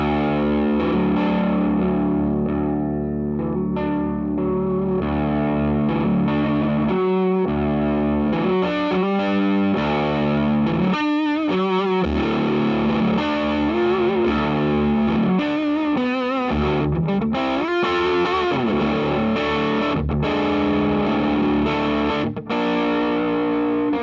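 Electric guitar driven through a JHS Twin Twelve overdrive pedal, giving a gritty, half-fuzz tone like breaking-up amp tubes; loud sustained chords and riffs with a few brief gaps, played alone with no talking.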